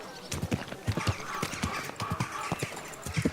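Horse hooves clip-clop at a steady trot in Kingdom Come Deliverance 2, a regular rhythm of moderately close, soft thuds and knocks heard alone.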